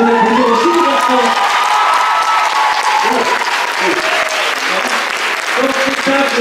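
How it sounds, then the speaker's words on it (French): Loud audience applause at a year-end dance show, dense clapping mixed with cheers, whoops and children's shouts, with crowd voices carrying throughout. "Donc déjà un bon applaudissement aussi les garçons."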